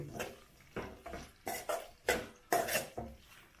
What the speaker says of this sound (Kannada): ಟೊಮೊಟೊನಿಗೆಲ್ಲ ಚೆನ್ನಾಗಿ ಈ ಥರ ಮಿಕ್ಸ್ ಮಾಡ್ಕೊಳ್ರಿ ಎಲ್ಲದನ್ನು